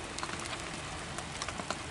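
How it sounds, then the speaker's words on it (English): Rain falls steadily outdoors at a concrete block patio job site, a dense, even hiss of patter with scattered sharper drops, with no voices. "We got another rainy day here."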